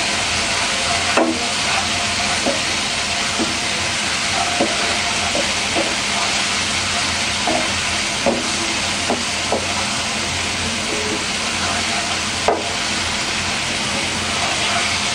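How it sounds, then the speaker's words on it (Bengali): Spice paste with salt sizzles steadily in a pan for a fish egg fry, a constant loud hiss broken by occasional light clicks of stirring. "মশলাটা একদম ভাজা ভাজা হয়ে আসছে।"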